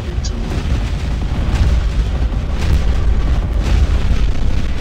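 Robot weapons fire and explode in the War Robots video game, a death-match mode on a test server. The booming low rumble is loud and continuous, with no sharp separate shots standing out.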